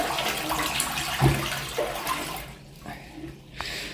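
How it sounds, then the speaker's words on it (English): A train toilet gives a short flush, a rushing watery whoosh that peaks early and fades within a few seconds over the rumble of the carriage. "Should we have a small flush?"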